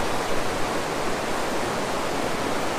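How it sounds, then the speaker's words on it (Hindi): A babbling river runs through a mountain valley near Daksum in Jammu, heard as a steady, dense rush of water that stays loud and unbroken throughout with no voices. "कलकल करती नदियाँ"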